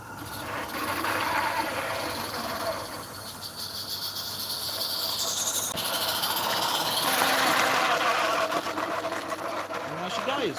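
A steam locomotive labors steadily up a gradient with rumbling, hissing exhaust and mechanical clatter building over several seconds, loud and close throughout.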